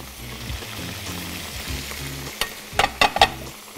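Crab pieces, crab claws, fish fillet, shrimp and mussels are stirred in a hot pot, giving a steady sizzle with scraping utensil strokes and a few sharp clinks toward the end.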